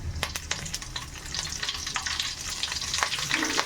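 Raw curry leaves hit hot oil in a pan for vegetable fried rice, crackling and spluttering loudly up close, with dense sizzling and stirring scrapes throughout.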